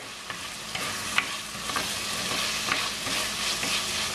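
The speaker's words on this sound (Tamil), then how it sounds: "இப்ப 2 நிமிஷமா வதங்கி கொண்டிருக்கு" Ingredients for a Jaffna-style sardine and boiled egg curry sizzle and fry in a pan, a steady close crackle punctuated by a few sharp stirring scrapes, with no talking.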